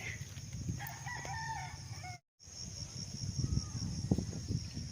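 A rooster crows once in the distance on a farm lot, faint against a steady chorus of chirping crickets, followed by scattered rustling and a brief dropout.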